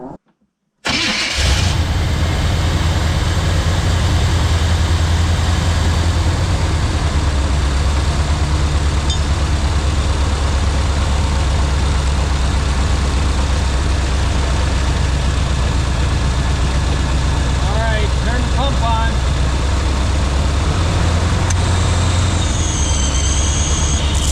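An off-road wrecker's engine starts up and then runs at a steady, loud idle while its new hydraulic pump is being bled, droning continuously with no talk over it.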